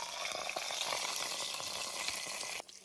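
A tempering of mustard seeds, jeera and curry leaves crackles and sizzles in hot oil as it is poured into curd rice, a dense, close frying sound lasting a few seconds.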